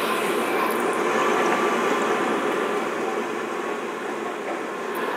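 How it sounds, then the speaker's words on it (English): A lab vent hood runs with a loud, steady broadband whoosh of rushing air and a low rumble, unchanging throughout. "the noise you're hearing is our vent hood kicking on"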